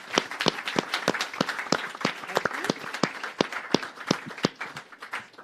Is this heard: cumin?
no